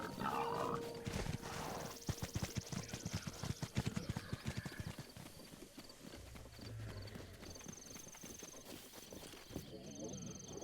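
Horse hooves clip-clopping in a Nintendo Switch video game, a quick run of sharp, even hoof knocks at mid-clip over a busy, continuous game soundscape with steady background noise.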